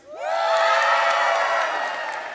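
An audience cheers and whoops in one quick swell that holds for a couple of seconds and then eases slightly, with no talking over it.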